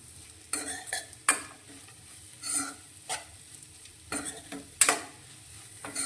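Bitter gourd curry with jaggery sautéing uncovered in a pan over a low gas flame, with a soft steady sizzle broken by several sharp scraping stirs of a spoon against the pan, close and moderately loud, no talking.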